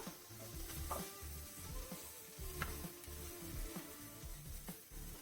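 Onions sauté in an oiled pan with salt and green chillies for potato masala, giving a steady, fairly quiet sizzle broken by occasional stirring scrapes.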